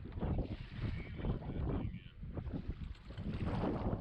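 Gusty wind on Lake Chickamauga buffets the microphone aboard a fishing boat, loud rumbling bursts that swell and ease over a few seconds with water slapping faintly beneath.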